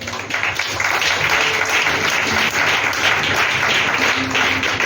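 A church congregation applauds steadily to acclaim the Lord during a prayer service, a dense, continuous wash of clapping lasting the whole stretch at fairly close range.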